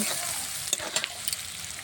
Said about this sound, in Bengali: পেঁয়াজটা একদম লাল লাল করে ভেজে নেব।